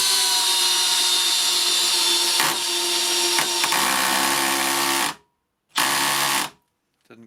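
A Makita 40V hammer drill driving a 100mm 14-gauge stainless batten screw without a pilot hole, a loud sustained motor whine with clutch ratcheting clicks, cutting out abruptly, then a short second burst.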